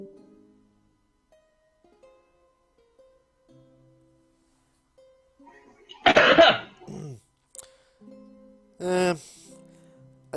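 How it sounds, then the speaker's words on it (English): One loud, harsh cough rings out close to the microphone, followed moments later by a second strong cough burst, with a few faint voices and quiet sounds between them. "Oh, I just coughed really loud"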